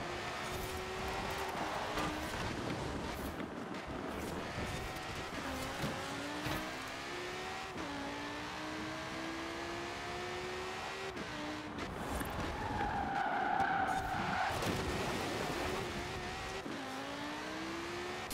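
A racing car in Forza Horizon 4 revs and shifts through gears, engine pitch climbing repeatedly with tire squeal, steady and close with no talk.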